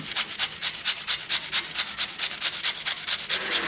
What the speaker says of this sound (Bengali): এরকম করে সব ঘষে নিব আমি পেঁপেতে যে চাটনিটা করবো